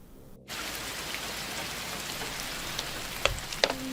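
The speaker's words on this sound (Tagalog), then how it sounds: "umuulan na ate." Rain starts suddenly and keeps falling in a dense, steady hiss, with a few louder drops or knocks near the end and no voices.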